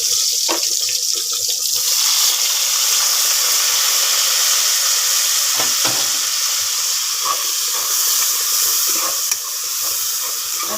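Squid and ginger sautéing in a pan with onion, garlic and tomato, a steady loud sizzle and hiss running throughout with a few clinks and stirring scrapes.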